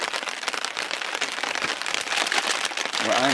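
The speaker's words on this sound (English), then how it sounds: "Raining again." Steady rain pattering on surfaces outdoors beside a lake, a dense close hiss of drops with a faint low tone near the end.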